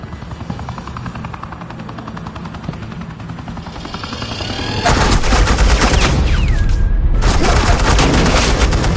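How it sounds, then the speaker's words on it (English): Suppressing gunfire in a Batman video game: a helicopter drone hums for several seconds, then loud, dense bursts of rapid gunfire break in near the middle, pause briefly, and resume close and loud. "Suppressing fire."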